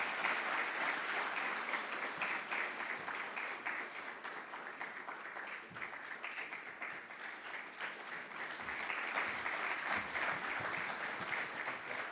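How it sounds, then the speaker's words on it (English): Applause from the audience at a public-private forum in Namibia for a speaker being introduced, sustained even clapping from a large crowd, heard fairly faintly and at a distance for about twelve seconds. "A round of applause for him,"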